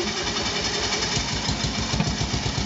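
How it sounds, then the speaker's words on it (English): A BMW Isetta microcar's small single-cylinder engine fires up and settles into a steady, close, rapid putter with a faint knocking pulse, no talking over it. "Engine fires up."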